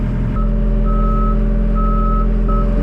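Loud, steady high-pitched reversing beeps from a John Deere 325G backhoe loader repeat over the heavy idling rumble of its engine close by.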